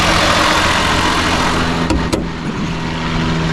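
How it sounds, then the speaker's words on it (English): A 2006 Ford Freestyle AWD, low on fuel after sitting for a while, idles with a steady close engine rumble and a slight uneven stumble partway through. "It's almost out of gas. I can hear it stumbling a little."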